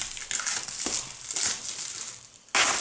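Close-up crinkling and rustling of a plastic packet, in irregular bursts, with a sharp loud crackle near the end.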